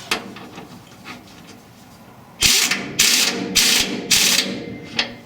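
A ratchet wrench tightens the rear shock bolts on a 1961 Ford F100 in four loud, evenly spaced clicking bursts after a quiet stretch, with a final softer click.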